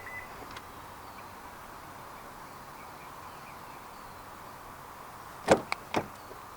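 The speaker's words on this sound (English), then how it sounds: "To lock the car, press the ribbed area on any of the front door handles." Door locks of a 2024 Honda Civic 2.0 e:HEV RS actuate after a touch on the front door handle, a few quick close clicks near the end over a faint steady hum.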